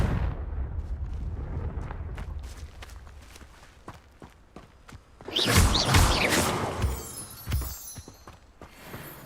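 A Confringo spell blast in Hogwarts Legacy, a loud fiery burst about five seconds in that roars for a couple of seconds, after footsteps and clanks from the game.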